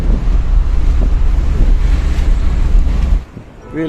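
Wind and surf roll in at Pennar beach, a loud, steady wash of waves with heavy wind buffeting the microphone, dropping away abruptly near the end.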